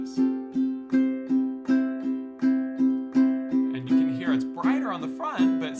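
Ukulele strummed in a steady down-up pattern with the index finger both ways, a warm, even rhythm of chords ringing close and clear, with a few brighter fretted embellishments toward the end.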